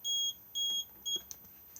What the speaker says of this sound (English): So if I push it at the moment it will beep at us